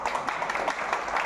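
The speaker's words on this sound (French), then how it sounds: "Je vous invite à l'applaudir." Audience applause at an exhibition opening in a library, a dense, steady wash of clapping from a crowd indoors at moderate level, with no clear pauses across the short stretch.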